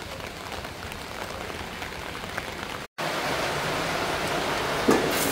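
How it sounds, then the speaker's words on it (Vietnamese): Heavy rain pours steadily at a rural riverside home in the Mekong Delta, a dense, continuous hiss that fills the whole stretch, broken only by a brief dropout midway, with no voices. "Mưa hết sức lớn luôn. Trời nẻ nhà là phải rồi."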